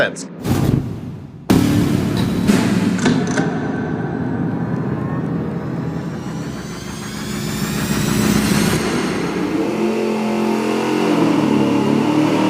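An engine on a dyno revs hard through a $29.99 Summit two-chamber muffler with no packing, a loud sustained roar after a brief burst and cutoff near the start, with talk faintly present.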